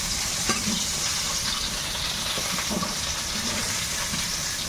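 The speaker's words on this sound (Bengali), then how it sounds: "লবণ দিয়ে ভেজে নিয়েছি এবার উঠিয়ে দেবো" Kulpi greens frying with salt in a pan, giving a dense, continuous sizzle with faint stirring scrapes, steady and close throughout.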